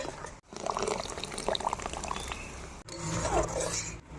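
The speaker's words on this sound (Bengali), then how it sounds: "নারকেলের দুধ দিয়ে দিচ্ছি।" Coconut milk being poured into a pan of garlic, mustard and poppy-seed paste while cooking a Bengali prawn curry, a steady liquid splash and sizzle filling the clip with short breaks, close and moderately loud.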